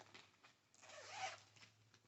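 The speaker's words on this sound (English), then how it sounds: "I can't get the zipper to unzip" A zipper on a bag is drawn open in one slow, drawn-out pull, faint and close, with small rustles of fabric before and after.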